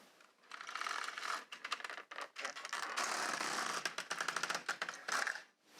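An LK150 knitting machine carriage is pushed back and forth across the needle bed, giving close clattering, ratcheting runs of mechanical clicks in several passes with short pauses between rows.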